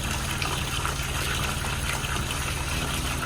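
Hot water from a Rinnai tankless heater running through a shower, a steady, dense rushing spray that stays constant and loud for the whole stretch, with no voices over it.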